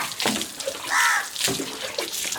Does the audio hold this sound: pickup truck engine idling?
no